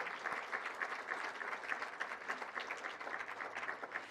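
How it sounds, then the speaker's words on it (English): An audience at the Rose Queen announcement applauds steadily, many hands clapping in an even, continuous patter heard from a moderate distance with no voices over it. "let's give them a big round of applause"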